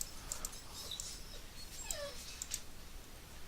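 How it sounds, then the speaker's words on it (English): A puppy whimpers faintly in the background with a few high, thin whines over steady low noise. "I apologize if you hear the pup in the background."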